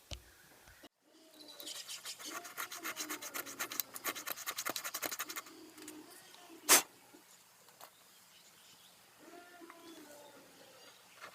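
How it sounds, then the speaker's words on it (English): Hand filing on a workpiece in a workshop: a run of rhythmic rasping strokes, moderately close, then tapering off, with one sharp clack partway through and faint bird calls in the background. "This filing job's going to take some time"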